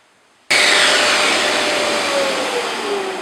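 A Festool Rotex 150 sander switches on abruptly and runs across wood with 120 grit, a loud, steady, high-pitched whir close by with no speech.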